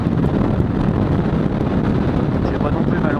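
Strong wind roars against a helmet-mounted GoPro on a motorbike riding at about 110 km/h, a loud, constant buffeting rush that fills the whole clip with no break.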